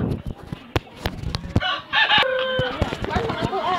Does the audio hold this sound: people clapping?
no